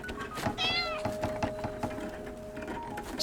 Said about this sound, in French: Il est pas doué le chat.